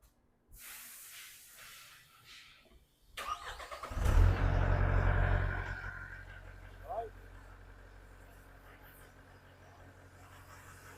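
A Mahindra 2638 HST 4WD tractor with grapple and backhoe starts up. A hiss and starter crank are followed by the diesel engine catching into a loud roar that settles into a steady idle, with a voice speaking nearby.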